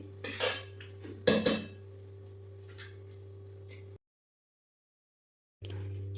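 A utensil scrapes and knocks against a pan while cooked vegetables, including beetroot, are mashed for pav bhaji. There are a few sharp clinks early on, then quiet, and the clip ends in a steady kitchen hum.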